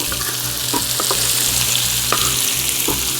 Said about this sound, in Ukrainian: Перемішуємо. Картопелька вже майже готова.